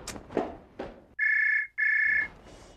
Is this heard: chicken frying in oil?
no